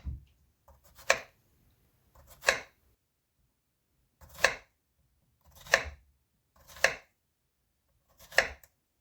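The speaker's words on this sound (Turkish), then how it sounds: "iki adet kabağımızı doğrayalım" A knife chops zucchini on a board in six separate sharp strokes, spaced unevenly a second or two apart, with quiet between them.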